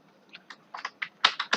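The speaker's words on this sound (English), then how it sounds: "So I am typing Apple" Computer keyboard keys tapped in a short, uneven burst of about nine close, crisp clicks, speeding up toward the end, with no talking.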